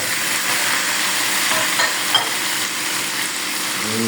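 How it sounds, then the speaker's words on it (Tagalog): Fried milkfish returns to an oily pan for adobo, and a steady, close frying sizzle hisses throughout, with faint stirring clicks and no talk. "Lagay na ulit natin itong piniritong bango."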